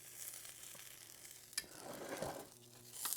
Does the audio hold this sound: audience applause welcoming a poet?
no